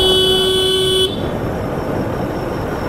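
A vehicle horn blares in one loud, steady note for about a second on a road at night, then cuts off, leaving a continuous wash of traffic noise.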